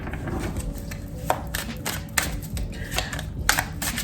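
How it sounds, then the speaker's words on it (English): A tarot card deck is shuffled by hand, giving a run of quick, close papery riffles and soft taps, with a few sharper snaps spaced irregularly through the few seconds. "I'm just gonna give this tarot deck a little bit of a shuffle"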